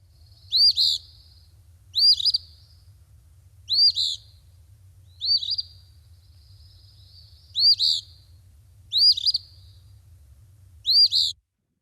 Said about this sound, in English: It's more like a sneezing version of saying the word Phoebe.